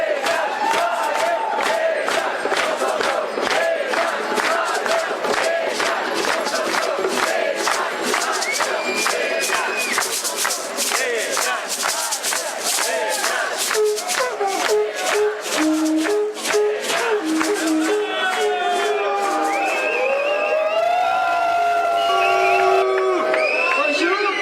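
A colorful crowd of seed liberators demonstrates in Brussels, a loud, continuous mix of chanting, shouts, whoops and cheering, with voices rising and falling close by throughout.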